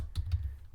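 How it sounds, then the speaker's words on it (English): Keys tapped on a computer keyboard while typing code: two or three quiet, close clicks in quick succession over a low steady background hum. "I will just basically start typing it"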